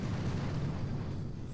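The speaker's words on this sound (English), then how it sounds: "get a barrage and just plop it right on top of that cannon" An artillery barrage in the Boom Beach strategy game lands on a cannon and nearby mines, a steady, dense, low rumble of overlapping explosions with no pauses.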